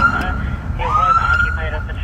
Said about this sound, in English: I'm going to light the siren just to let them know we're coming